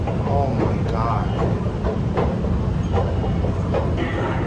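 A train rolls through a station with steady rumbling and rhythmic clickety-clack of wagons, loud and close throughout.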